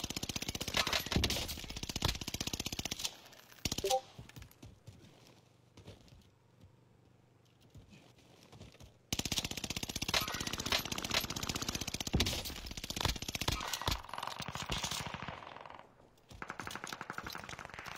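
Video game gunfire from a large-magazine automatic gun, several long rapid bursts of loud close shots broken by pauses of near silence, ending with a shorter burst.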